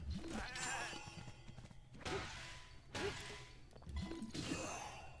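Goats bleating in the video game Zelda: Breath of the Wild, three or four wavering bleats spaced about a second apart over a soft outdoor ambience, fairly quiet, with no talking.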